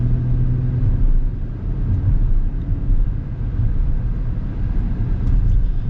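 A 2026 Acura MDX with independent suspension rolls over bumps, producing a steady, loud low road rumble inside the cabin with faint scattered knocks and no talk.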